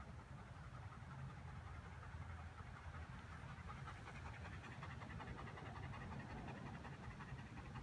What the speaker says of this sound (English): Even 10 minutes later, you're still panting.